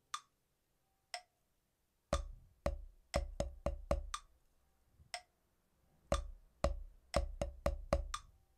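Unaccented snare drum strokes without drags, played as a rudimental bar from the All-American Drummer solo, starting with the left hand: isolated sharp hits, then quick clustered groups of crisp taps, close and clear, with no talk.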